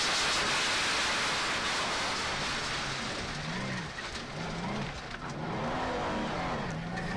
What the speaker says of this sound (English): the inevitable sound of gravel battering against carbon fibre